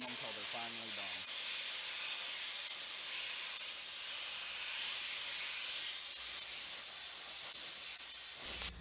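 A steady, loud hiss of a steam cleaner spraying jewelry pieces continuously for several seconds, with a few brief clinks at the start and an abrupt stop at the end.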